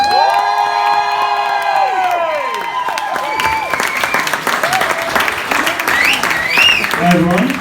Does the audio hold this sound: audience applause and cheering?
yes